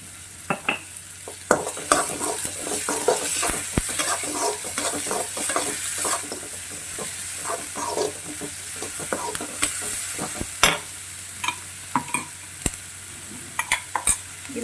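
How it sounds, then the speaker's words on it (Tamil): Onions sautéing with a little salt in a pan make a constant sizzle, broken by frequent sharp scrapes and taps of a spoon stirring against the metal. "இந்த வெங்காயம் வதக்கிறதுக்காக நான் கொஞ்சம் உப்பு சேர்த்துக்கிறேன்."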